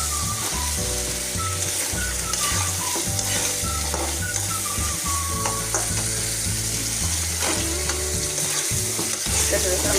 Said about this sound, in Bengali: তেল বেড়ে গেছে, মশলাটা ভাজা হয়ে গেছে